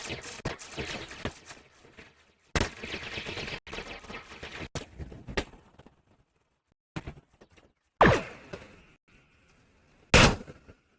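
Starship weapons fire in the Star Trek Online video game, aimed at Klingon vessels: a run of loud, sharp blasts and crackling bursts, some clustered and some separated by short silences, with two heavy bangs near the end.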